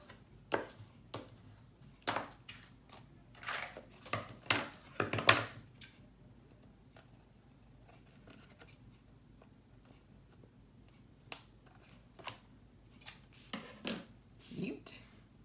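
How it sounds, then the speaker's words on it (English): Scissors snip excess paper on a handmade mini album in a series of short, crisp cuts, irregular and close, with quiet pauses between bursts and soft talk now and then. "and then we'll just trim off what's left."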